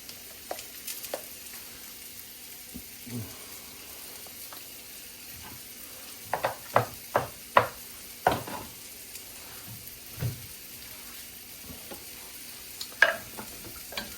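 Fresh thyme and about six garlic cloves stirred together in a pot for a pot roast: a low background sizzle broken by a string of sharp spoon scrapes and knocks against the pot, clustered mid-clip and sparse later.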